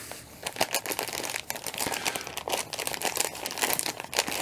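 A plastic bag crinkles and crunches steadily for several seconds, close and fairly loud, while a GoPro-style action camera accessory kit from Neewer is being unpacked.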